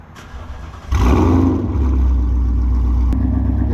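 Ford Mustang GT 5.0 with catless longtube headers on a warm start: the starter whirrs briefly, then the engine catches with a loud bark and settles into a steady, rumbling idle close by.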